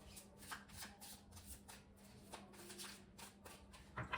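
Tarot cards are handled and shuffled in a quiet room, with a string of soft papery riffles and flicks in irregular bursts, faint and close, ending in a slightly louder shuffle.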